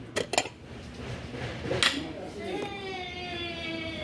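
Ceramic plates handled on a store shelf, a few sharp clinks and knocks followed by a ringing tone that fades, heard up close, with a voice speaking faintly around them.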